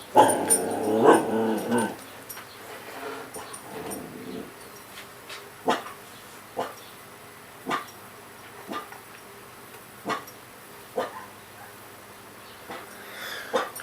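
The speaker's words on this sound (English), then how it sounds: "Oh, garage dog." In a garage, a dog gives a short burst of whimpering, yelping barks at the start. Quiet, evenly spaced knocks and taps from pump repair work follow.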